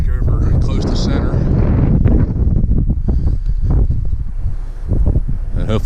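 Strong wind buffets the microphone in a loud, continuous rush outdoors beside a dump truck hauling blacktop while its tarp is wound in.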